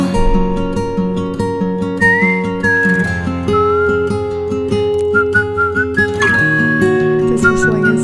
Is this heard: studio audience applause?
no